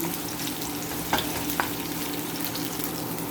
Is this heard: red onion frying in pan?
yes